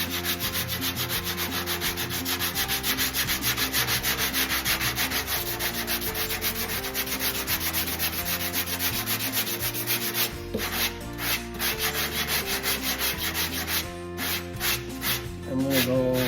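Steady, continuous rasp of 80-grit sandpaper worked over a car body panel during small dent repair, loud and close, with brief pauses near the end.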